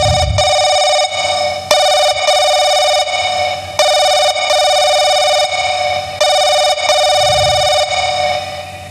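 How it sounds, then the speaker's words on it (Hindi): A telephone rings repeatedly on an outgoing call in a Hindi nautanki stage drama. Loud, evenly spaced ring bursts are separated by brief gaps and heard on their own. "जरा प्रधान जी के पास फोन लगा।"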